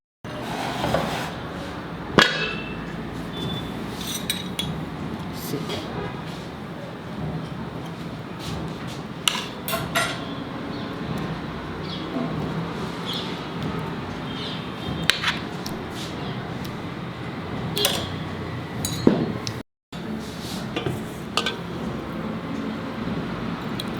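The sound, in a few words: serving khichdi into a bowl with utensils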